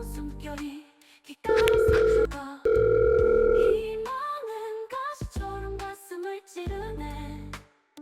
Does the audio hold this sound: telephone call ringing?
yes